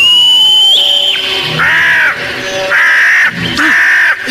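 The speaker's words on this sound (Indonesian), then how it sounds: "Brama nekat memanggil Raja Wali itu dengan menyuitinya" A loud, close bird cry serves as an eagle sound effect in an Indonesian radio drama, with a long descending scream followed by three harsh repeated caws in a steady rhythm and no talk.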